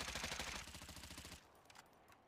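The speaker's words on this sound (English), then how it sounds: "I'm going to be firing both guns from the 10 meter mark" Rapid automatic fire from an AK-74U in the video game Warzone at a 10-meter range, a dense burst of loud shots for over a second that then cuts off to quiet sparse tail sounds.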